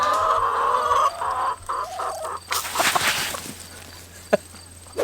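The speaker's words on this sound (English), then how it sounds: "Do you know how to keep your chickens quiet?" Backyard chickens cluck and squawk close by in a garden, giving a steady run of clucks with louder agitated calls rising near the end.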